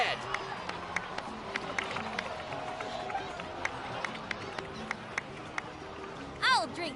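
Steady applause from a crowd in a video game cutscene, a dense continuous patter of clapping at moderate level with a few sharper individual claps, and a brief voice near the end.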